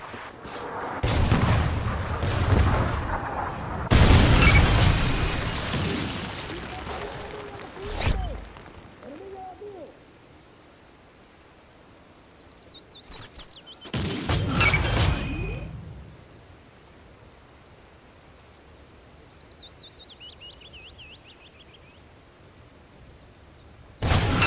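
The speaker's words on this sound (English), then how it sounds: "Friendly Trinity rocket inbound." Trinity rocket strike explosions in the Call of Duty Ghosts video game, several heavy booming blasts in separate bursts with quieter stretches and faint game sounds between, loud and close.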